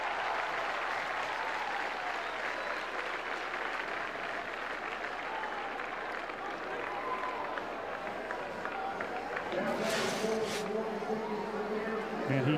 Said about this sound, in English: Crowd buzzing over that home run by Craigle.